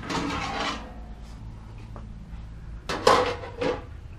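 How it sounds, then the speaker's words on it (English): A dollar store pan is slid into a barrel stove, with a couple of sharp metallic clanks and scrapes close by after a quiet stretch of low background hum. "I've got the dollar store pan. It just fits in there nice and easily as well."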